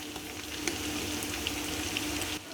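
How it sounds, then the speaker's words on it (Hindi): Mutton frying in a pan with biryani masala, red chilli powder, turmeric and salt gives a steady, moderately loud sizzle. It keeps up a continuous hiss with a few faint clinks, and no one speaks. "गोश्त के साथ 1 मिनट तक अच्छे से भूनूंगी"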